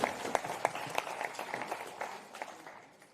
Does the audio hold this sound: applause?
yes